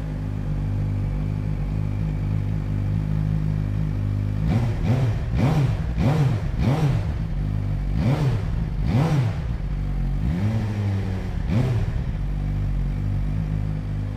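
A Suzuki GSX-R1000R four-cylinder superbike fires up after a quiet idle-like start, then gives a series of sharp, rising and falling revs in quick succession, loud and close, with no talking.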